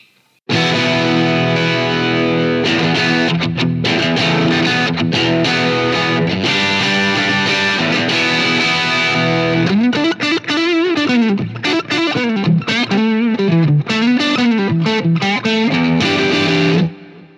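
Heavily distorted electric guitar through a tube amp and a DS-1 distortion pedal, crunchy amp tone, sustained chords and then fast riffing lines, loud and close, no voices.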